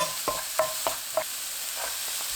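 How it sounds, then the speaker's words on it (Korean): Carrots stir-fried in a pan with a spoon of cooking oil and onions over medium heat, several distinct scraping strokes at an even pace above a faint continuous sizzle, close and alone. "당근 넣고 1분 볶습니다."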